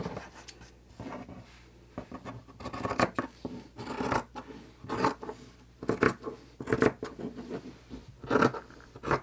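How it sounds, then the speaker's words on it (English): Scissors cut along a line through folded fabric for a machine-embroidered in-the-hoop potholder, a steady run of close, crisp snipping and slicing strokes with soft rustling between them. "We're just going to use our scissors and we're going to follow that line."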